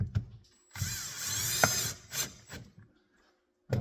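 A power drill drives screws in, with a long whirring run followed by short, close, loud bursts separated by brief pauses.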